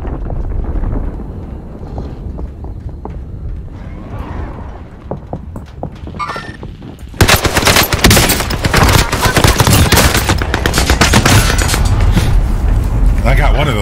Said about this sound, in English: I got one of those guys. Shots over here.